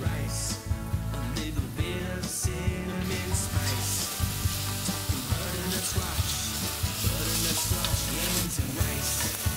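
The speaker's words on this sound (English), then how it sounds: "You don't need to brown these onions, just cook them till they get soft, a little bit translucent" Chopped onions sizzle steadily in a hot pan for butternut squash soup, a continuous frying hiss with occasional stirring clicks, close and fairly loud throughout with no talking.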